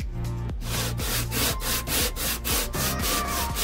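A wooden knife handle being sanded by hand, a close, loud rhythmic scrubbing of abrasive on wood in steady back-and-forth strokes about three per second, with no voices.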